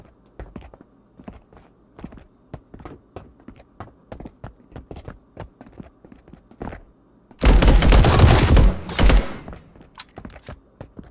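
Gunfire in the video game Marauders: a dense, loud burst of shots lasting about two seconds, following a long run of steady in-game footsteps, with no talk over it.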